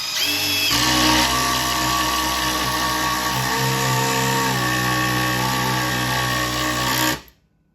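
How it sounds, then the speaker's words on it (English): A Milwaukee M12 Surge impact driver drives a thick 4-inch Spax screw, a loud continuous whirring, buzzing drive lasting about seven seconds with shifting tone as the screw sinks, then cutting off sharply. "Got a Spax, I think 4 inch, but it's a little thicker than anything else we put in. So let's give it a try at the M12."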